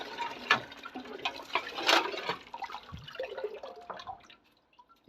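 Water gushing and dripping from a village hand pump used for washing dishes and bathing, splashing in irregular bursts close by, loudest early on, then thinning to scattered drips.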